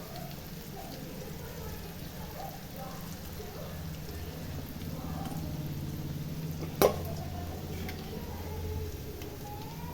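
Karunai kizhangu (elephant foot yam) pieces frying in hot oil give a steady, fairly quiet sizzle that runs the whole time, with one brief sharp clack near the end.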